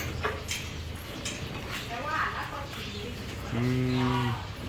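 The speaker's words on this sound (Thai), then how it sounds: "วัวเยอะมากครับที่นี่ฮะ" Dairy cows on a farm during milking, with a long, loud, close moo near the end over a busy barn background of shuffling and clatter.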